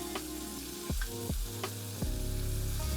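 A steak sears in a pan while being basted with garlic herb butter, a faint steady sizzle with a few sharp spoon scrapes and clinks against the pan.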